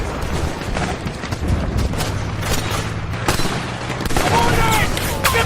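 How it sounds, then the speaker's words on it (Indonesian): Japanese artillery and gunfire in a WWII Pacific battle: dense, continuous booming and crackling salvos, loud and chaotic throughout, with rapid bursts layered over heavy rumble. "menerobos derasnya artileri Jepang yang belum mau berhenti"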